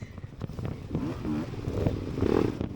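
A Yamaha motorcycle in an off-road race revs and passes nearby, its engine rising and falling amid the clatter and scrape of riding over rough ground.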